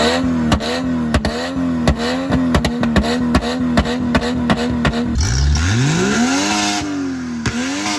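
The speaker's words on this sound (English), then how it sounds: "you have to hear this car." A Chevy SUV with an ordinary family-car look revs its engine hard and loud, with repeated sharp throttle blips, a deep rising growl and popping exhaust crackle.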